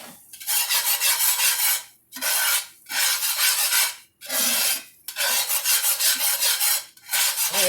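A spoon or spatula scraping gravy across a pan for country fried Spam steaks, with about six rasping strokes in a steady back-and-forth rhythm, separated by short pauses, close and fairly loud.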